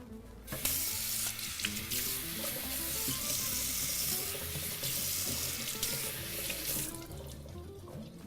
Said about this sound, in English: So we'll give that a quick rinse.